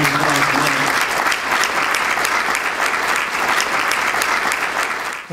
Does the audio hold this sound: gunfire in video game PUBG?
no